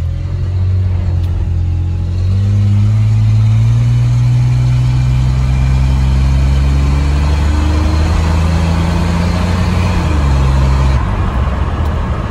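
A $500 Chevy S10 pickup truck drives along while its engine revs up and settles in a loud, steady drone, the pitch climbing through the gears and dropping near the end, with no talking over it.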